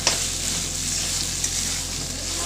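Partly boiled potatoes dropped into a hot pan for a jackfruit and liver curry, setting off a loud, steady frying sizzle that runs the full length, with a couple of small pops and stirring taps.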